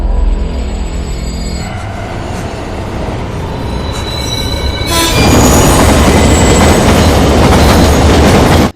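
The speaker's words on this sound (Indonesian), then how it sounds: "Karena kereta sudah melaju ke arahnya" A passenger train runs along the rails near a station, a steady loud rumble of wheels and carriages that swells louder and rougher partway through, with no voices.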